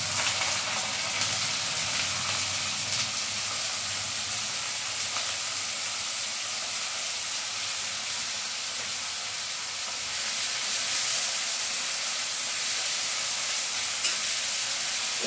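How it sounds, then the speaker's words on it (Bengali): Chopped large onion frying in hot white oil in a new cast iron wok, giving a steady, loud, dense sizzle and hiss that holds evenly throughout with no talk. "এবার তেলের মধ্যে দিয়ে দিচ্ছি এইভাবে কুচিয়ে কেটে রাখা একটা বড় মাপের পেঁয়াজ।"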